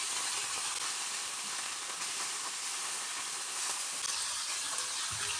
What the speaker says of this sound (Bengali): তেল গরম হয়ে এসেছে এখন আমি মাছগুলো ভেজে নেব